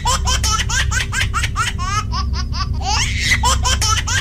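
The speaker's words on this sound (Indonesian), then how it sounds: "Suara bayi tertawa itu terdengar berulang-ulang." A baby laughs in repeated bursts, a steady giggling rhythm throughout, close and clear over a low background hum, used as a sound effect within a narrated story.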